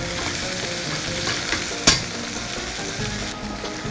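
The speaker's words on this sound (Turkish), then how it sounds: "Şimdi pirinçler iyice güzelce yağdan nasiplerini aldılar." Rice sautéing in oil in a pot for Turkish pilaf, a close, steady sizzle with stirring scrapes and one sharp clink of the spoon against the pot, no voices.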